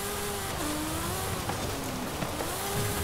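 Offroad driving of the 2020 Sierra Cars Yokohama Alpha in Forza Horizon, a steady engine drone whose pitch rises and dips with gear changes, continuous and fairly close, with occasional light bumps from the terrain.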